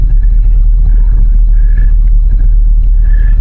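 A four-wheel-drive truck engine labors steadily while pulling on a taut rope uphill, a loud continuous low rumble with a faint recurring whine, no talk.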